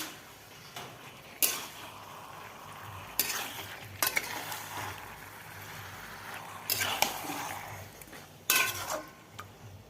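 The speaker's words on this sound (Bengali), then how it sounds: "এখানে কুচনো পেঁয়াজ দিয়েছি আর টমেটো হচ্ছে মাংস কষানো" Meat sautéing with chopped onion and tomato in a pan, with steady moderate frying and repeated bursts of spatula scraping and clanking against the metal, close by.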